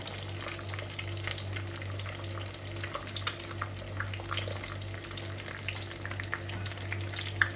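Egg frying in oil in a pan, a steady soft sizzle and crackle with small pops throughout, close and continuous with no talking.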